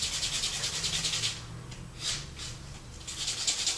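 A nail file rasps over acrylic porcelain nails in short, close back-and-forth strokes, the scratchy rubbing rising and falling in quick bursts with brief pauses between them.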